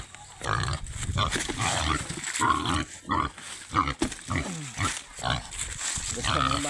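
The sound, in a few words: pig grunting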